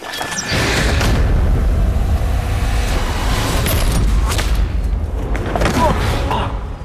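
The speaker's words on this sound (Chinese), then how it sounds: "别过来，我开枪了。" Gunfire in a Chinese war film about special forces soldiers, heard as dense, loud booms and sharp cracks that run almost continuously, mixed with the film's dialogue and effects.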